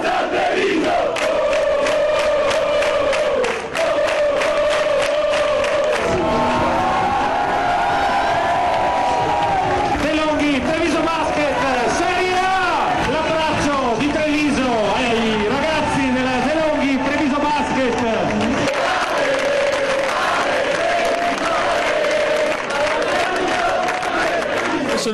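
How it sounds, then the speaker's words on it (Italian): A crowd of nearly 2000 basketball fans in piazzale Burchiellati, Treviso, cheering and chanting together on a special evening of celebration, loud and continuous throughout. "quasi 2000 persone in piazzale Burchiellati, voci e canti e colori di questa serata speciale"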